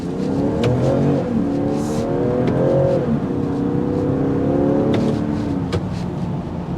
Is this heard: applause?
no